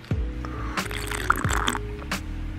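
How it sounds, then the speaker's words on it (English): Water being drunk, a close sequence of wet gulps, swallows and small liquid sounds with a few soft clicks, no talking. "Let me drink some water."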